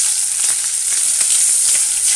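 Onions frying in a pan for a kale and turkey bacon frittata, giving a loud, steady, close-up sizzle with faint crackles throughout.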